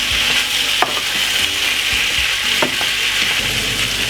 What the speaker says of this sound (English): So just stir up this for about a minute or a second.